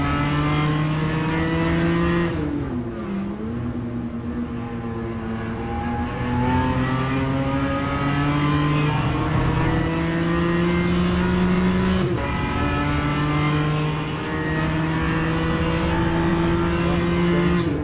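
A high-pitched BMW M2 CS racing engine in a sim racing game drones continuously, rising and dropping in pitch through gear shifts, with a steady electronic quality throughout.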